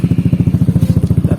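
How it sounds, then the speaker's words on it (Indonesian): A motorcycle fitted with an Akrapovic-style racing exhaust made in Purbalingga idles loud and close, a fast, even, throbbing chain of deep exhaust pulses. "Cek sound suara knalpot racing akap tropik dari Purbalingga."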